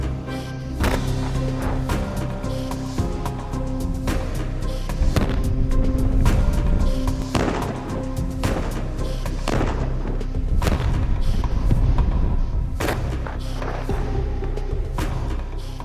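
Avalanche control explosive charges blast in snowy mountain terrain, producing repeated deep booms and thuds that roll and echo loudly across the whole stretch.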